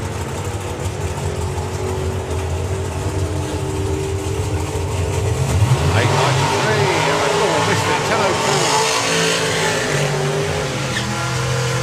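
A hot rod drag racing car makes its run at a drag strip, engine roaring steadily and then rising in a building, sweeping pitch as it pulls away, with commentary talking over it.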